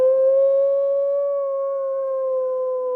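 Audience voices sustain a long, steady wavering hoot, mimicking wind howling during a campfire storytelling session, holding one pitch for about three seconds with no talk.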